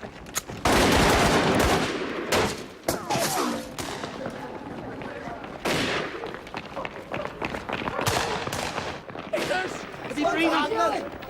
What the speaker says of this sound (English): they're firing real bullets